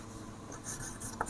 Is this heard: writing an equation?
yes